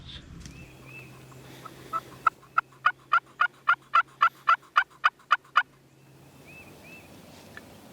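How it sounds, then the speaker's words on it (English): A wild turkey gobbles in Mississippi hardwood woods: a rapid run of about a dozen evenly spaced, loud, rattling gobble notes, fairly near, over quiet woodland background. "We got a turkey started gobbling up there on his own"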